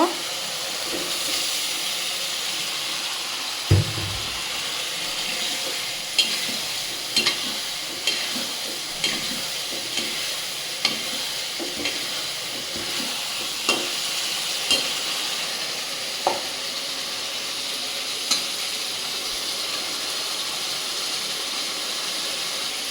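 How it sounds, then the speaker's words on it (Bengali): Fried eggs are added to a sizzling fish and vegetable curry and stirred, a constant frying hiss punctuated by regular clacks of the spoon against the pan over more than twenty seconds. "ভেজে রাখা ডিমগুলো এখন আমি দিয়ে দিব।"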